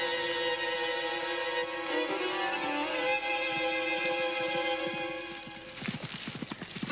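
Rhythmic hoof clip-clops of a horse galloping amid a busy musical backdrop, with a whinny-like burst and faster hoofbeats near the end.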